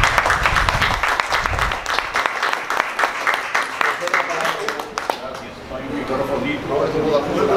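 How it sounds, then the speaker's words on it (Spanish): Audience applause at a military writers' book discussion gathering, a steady crowd clapping that fills most of the stretch and thins out toward the end, with some voices mixed in. "Así que vamos a dar un abrazo, un aplauso."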